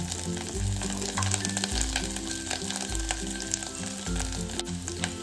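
Potatoes and peanuts fry in ghee with a constant close sizzle, stirred through with rhythmic scraping swells about once a second, and no one speaks.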